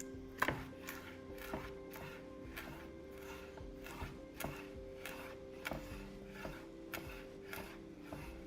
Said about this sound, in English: I saw a video on how to properly cut chives.